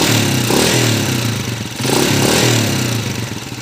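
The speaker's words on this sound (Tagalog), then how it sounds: "check natin yung andar ng makina ng Uncle." Honda TMX 155 motorcycle engine running with a noisy, clattering mechanical tick over a steady mid-pitched drone, swelling in two brief rev surges, close and loud with no talk.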